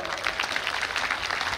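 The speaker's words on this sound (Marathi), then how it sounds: "त्यांच्यासाठी जोरात पहिले टाळ्या वाजवा।" Audience clapping at a gathering, a dense continuous wash of many hands with no gaps, moderately loud and steady for a brief moment.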